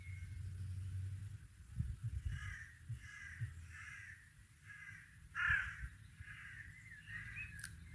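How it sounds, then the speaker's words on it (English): Several crows caw in a loose series of hoarse calls at moderate distance, one louder call standing out midway, over a low rumbling outdoor background with no talk. "And the crows are speaking of change."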